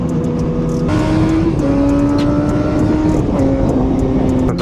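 A new Yamaha R7 motorcycle in A2-restricted form accelerates, its engine tone climbing in steps through several gear changes, loud and close with a steady droning roar.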